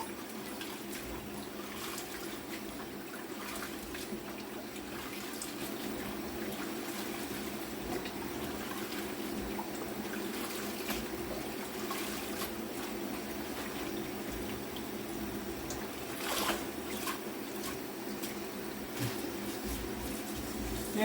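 Cold tap water runs steadily into a kitchen sink as mustard greens are rinsed, a low, even rushing flow with occasional splashes, fairly quiet and continuous throughout.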